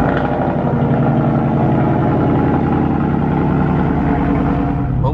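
Ford F-150 pickup truck engine idling after a cold start, a steady close-up rumble with an even rhythmic throb and no revving.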